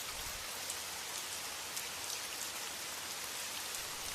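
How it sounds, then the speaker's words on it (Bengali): Storm rain falls in a narrated fairy tale, a steady dense hiss of raindrops on surfaces with no letup, even and close, with no voices. "হঠাৎ ঝড় বৃষ্টি চলে আসে"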